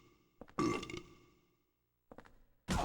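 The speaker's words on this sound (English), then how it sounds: "Why are they burping at me? Stop burping at me." Enemies in the horror game Silent Hill 4 let out wet, guttural burps, one long belch followed by a pause and shorter bursts, loud and close with no talk over them.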